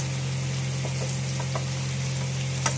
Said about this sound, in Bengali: এখানে পনির ভাজা হচ্ছে